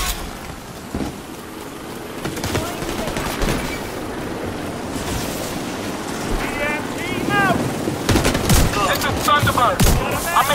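Hovercraft in The Division 2, a rough roaring engine wash mixed with gusty wind and bursts of gunfire, with voices calling out over the din.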